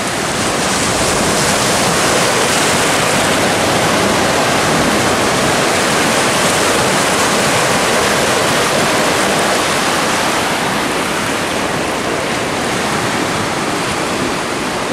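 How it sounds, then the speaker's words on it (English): Water from the River Thames washes in over the foreshore in a loud, steady rushing surge that continues without a break throughout. "here comes the river."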